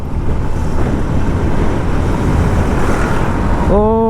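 A Hero Thriller 160 motorcycle with 18,000 km on it pulls hard along an open highway, its engine drone buried in heavy, continuous wind rush against the microphone, ending with a brief rising whine as revs climb.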